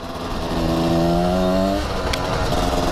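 A motorcycle engine revs hard under full throttle on an uphill stretch, its rising tone climbing steadily for over a second before easing off, loud and continuous, with no talk over it.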